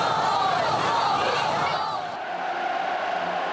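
A packed crowd at Pyongyang's May Day Stadium roars and applauds as a flag is raised, a loud, broad swell that dips slightly partway through. A voice speaks over the crowd.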